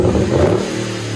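A procharged 5.7L HEMI V8 in a 4x4 RAM 1500 pickup with Magnaflow glass pack exhaust roars loudly up close, its deep rumbling exhaust swelling then easing off slightly over a brief moment.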